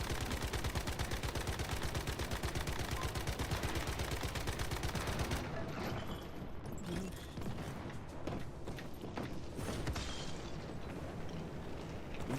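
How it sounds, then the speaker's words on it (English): Rapid automatic gunfire from a survival shooter game, Once Human, rattles loud and continuous for several seconds as players shoot at critters, then gives way to scattered bursts and pops under ongoing game noise. "should just be able to shoot the critters now"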